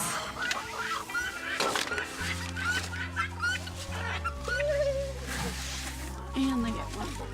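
Chickens on a farm cluck and chatter during feeding on a freezing day, their short calls repeating over a low steady drone while people talk nearby.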